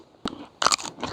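A small garden-grown radish crunches loudly as it is bitten, one sharp snap followed by a cluster of crisp, juicy chewing crunches up close.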